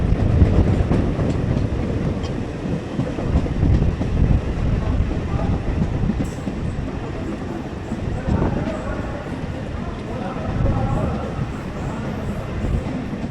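A fast local train from Howrah to Haldia rumbles steadily along the tracks with a continuous low roar and rattling, loud and close throughout, with faint wind buffeting.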